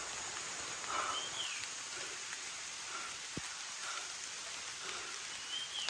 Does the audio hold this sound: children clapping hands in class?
no